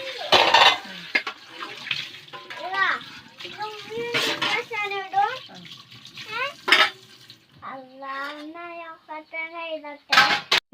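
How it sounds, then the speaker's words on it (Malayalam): Dishes are washed at a kitchen sink and the sink is wiped down: occasional sharp clatters of pots and utensils and some running water, mostly under a voice talking nearby. "പാത്രങ്ങളൊക്കെ കഴുകി നമ്മുടെ സിങ്കും കാര്യങ്ങളൊക്കെ ഒന്ന് നല്ല പോലെ ഒന്ന് തുടച്ചെടുക്കുന്നുണ്ട്"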